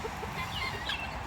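Guinea fowl call in short, faint, scratchy bursts from a backyard flock that is feeding on apples, with no speech.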